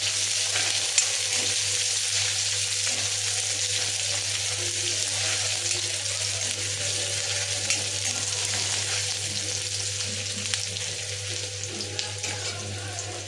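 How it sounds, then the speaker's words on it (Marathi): Onion frying in hot oil with curry leaves for toor dal amti makes a steady close sizzle and crackle throughout, with faint stirring and a low hum beneath. "त्यात टाकूया कांदा. टाकून तळून घेऊया."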